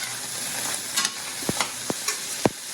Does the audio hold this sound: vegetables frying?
yes